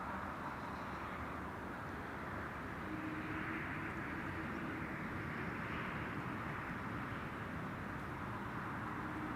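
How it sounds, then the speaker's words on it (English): A KLM Airbus A330-300 jet touching down at Amsterdam Schiphol, a distant, faint, steady engine and air roar that rises gently midway, with no voices. "Another KLM A330-300 arriving from Edmonton, Canada. KLM flight 676. Now touching down after 8 hours and 6 minutes of flight."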